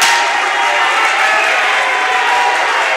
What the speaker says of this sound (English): that's the Cape May Tech crowd you hear applauding their defense